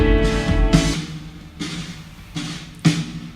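Live drums play with layered hits, several strong kicks and snare or cymbal crashes spaced unevenly, full and close with no voices.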